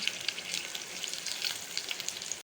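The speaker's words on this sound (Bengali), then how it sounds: "কাঁচা লঙ্কা, একটা শুকনো লঙ্কা দিয়ে দেবো, একটা তেজপাতা দিয়ে দেবো। এবার হালকা করে নেড়ে নেব।" Green chili, a dried chili and a bay leaf fry in hot oil and are gently stirred, giving a steady, close crackling sizzle that cuts off abruptly at the end.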